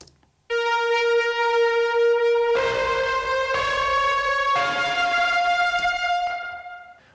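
A Prophet 5 synth lead is driven through a heavy UAD Raw distortion pedal along with saturation, EQ and reverb. It plays sustained, gritty, guitar-like notes that step through a slow melody, dense and loud, with no other sounds.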